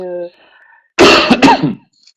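A participant on a coaching webinar call gives one harsh, close cough, a short burst followed by a rougher throat-clearing rasp, after a brief tonal blip and before silence.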